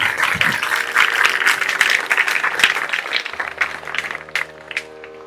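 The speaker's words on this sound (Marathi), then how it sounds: "तालात टाळ्या मस्त टाळ्या वाजवल्या" Audience clapping at a Marathi poetry recitation by Professor Indrajit Bhalerao, a dense sustained burst of applause with tonal music or singing running beneath it toward the end.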